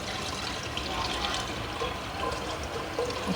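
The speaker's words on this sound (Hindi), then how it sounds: "अब ये जो मैंने घोल बनाया था बेसन और दही और मसाला जार से, ये मैं इसमें शामिल कर दूँगी" Gram flour, yogurt and spice batter pours from a jar into a clay pot with a soft, continuous liquid splashing and gurgling, quiet and close.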